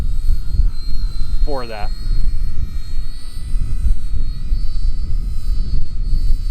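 A tiny RC ERA C032 1/48 scale Huey toy helicopter flies outdoors in some wind, giving a steady high-pitched electric rotor whine and a low wind-buffeted rumble, with someone briefly talking over it.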